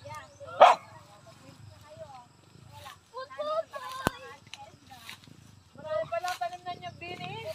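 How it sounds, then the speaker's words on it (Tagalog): A dog barks and yips a few times, sharp and close, while people talk nearby. "Wag kang tahol ng tahol"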